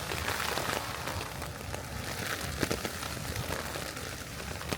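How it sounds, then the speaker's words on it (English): Rain patters on a camping tarp on the cliffs as a soft, steady crackling hiss with scattered sharper drop taps, fairly faint and continuous. "Real rain on tarp."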